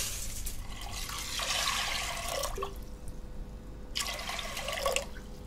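Water running into a saucepan over drained, cooked food in a home kitchen, a steady close pour with a short pause before it resumes, no speech.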